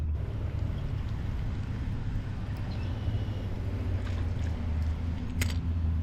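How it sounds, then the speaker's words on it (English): Steady breezy wind buffeting the microphone at a fishing bank, a constant low rumble with no talk and only a brief rustle or tap near the end. "It's just a little too breezy."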